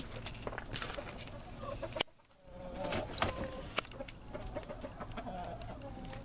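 A rooster and hens clucking up close in a backyard flock, with scattered soft clucks and rustling, a brief hush partway through, then more intermittent clucking and movement.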